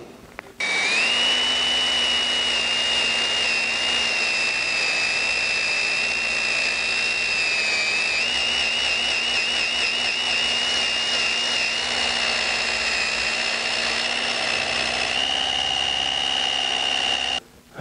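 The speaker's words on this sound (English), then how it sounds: "I'm going to take my drill." A power drill spins steadily for about seventeen seconds with a sustained high whine, used to burnish a wood turning. It starts and stops abruptly and its pitch shifts slightly partway through, with no talk.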